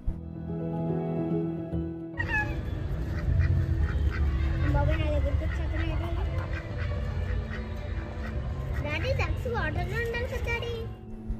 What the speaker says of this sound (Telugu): ఇక్కడ చూసారా, బాతులు భలే ఉన్నాయి.